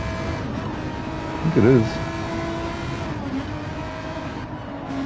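A Porsche 917K race car in Gran Turismo 7 holds a steady, droning engine note from start to finish, sitting beneath a voice talking over it.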